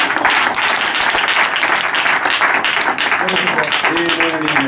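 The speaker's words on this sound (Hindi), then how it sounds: "तालियां बजाकर धन्यवाद दीजिए।" A church congregation at a revival service claps hands together in a loud, dense burst, with voices calling out beneath the clapping and rising near the end.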